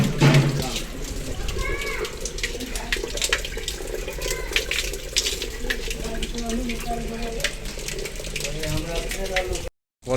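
Water gushes steadily from an open tap left running, a loud continuous splashing rush heard close, with voices talking over it before it cuts off abruptly near the end.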